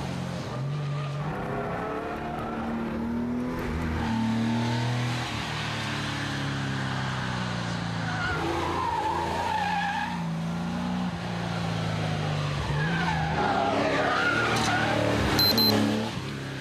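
A Karmann Ghia racing a slalom course, its engine revving and droning steadily while tires squeal and skid through the turns, loud and close throughout.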